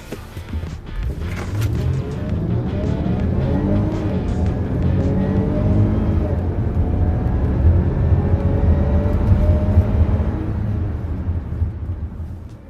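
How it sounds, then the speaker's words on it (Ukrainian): A Land Rover Discovery with a supercharged petrol AJ126 engine drives along, its steady loud engine drone rising and falling in pitch through gear changes, close and continuous without talk. "Отже, як їде ось цей бензиновий компресорний AJ126?"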